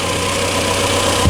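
Close, steady idle of a car engine after its timing was set, a loud even rumble with faint rhythmic knocking and no voices.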